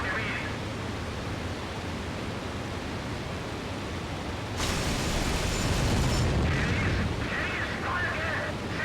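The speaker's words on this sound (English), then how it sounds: "That was a close explosion." A close explosion in the Il-2 Great Battles flight combat game erupts as a sudden loud blast midway through a steady roar of engine noise, then lingers in a heavier rumble.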